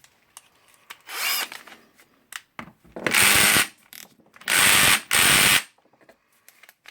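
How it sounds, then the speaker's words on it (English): A power drill or driver whirs in several short bursts, removing screws from a Hitachi H60MR demolition hammer, with brief clicks and handling noises between the loud spins. "Now I will unscrew these screws."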